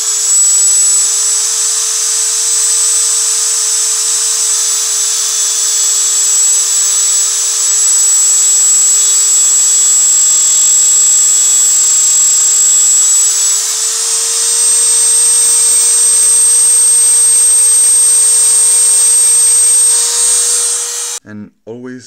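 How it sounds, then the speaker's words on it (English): A small high-pitched rotary sanding tool grinds down the resin body of an LED, a steady, loud, continuous whine held for about twenty seconds before cutting off abruptly, with no talking. "I'm going to sand more possible without damaging the actual LED"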